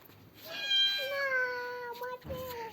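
A kitten gives a drawn-out meow, then a second shorter one, near and clear, with no one talking.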